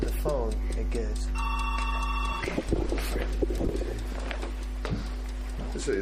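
An old telephone bell rings in short repeated bursts partway through, heard under ongoing conversation and a steady low background hum.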